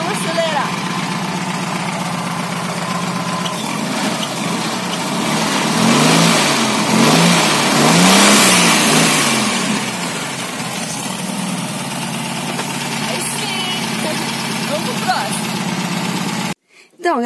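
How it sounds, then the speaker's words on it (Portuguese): An air-cooled Volkswagen Beetle (Fusca) engine runs loud and close, rising in a few revving swells mid-way before settling back to a steady idle, then cutting off near the end. "O Edinaldo pediu pra gente acelerar o Fusca no motor, assim."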